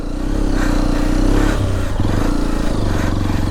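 A Hero XPulse 210 motorcycle ridden through sand drones loud and close, its engine holding a steady low note with brief changes in revs and clattering from the bike.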